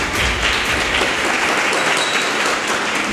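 Church congregation clapping loudly, a dense continuous burst of applause filling the hall, close and sustained.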